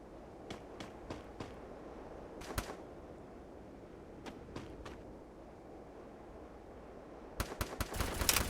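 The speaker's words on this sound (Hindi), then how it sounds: "तो सामने से कोई हम पे फायर कर रहा है" Gunfire in the Free Fire video game: sharp single shots ring out at scattered intervals, faint and somewhat distant, then a rapid cluster of shots closes the sequence.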